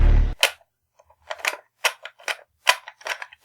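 A toy machine gun fires a short burst of sharp, snappy clicks and pops in an irregular rhythm. The shots are close and crisp, with silence between them.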